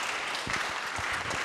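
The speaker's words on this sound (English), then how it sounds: "Let's give him applause while he comes up." An audience at a Safe Streets community meeting applauds as the Shawnee County sheriff comes up, a short burst of soft, diffuse clapping with a few distinct claps standing out.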